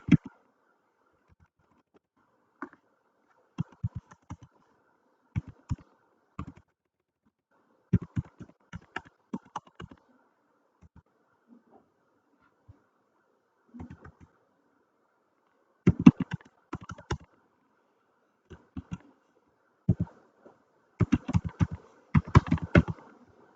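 An email address typed on a computer keyboard during an online registration form, scattered bursts of close key clicks separated by long silent gaps, with quicker clusters toward the end.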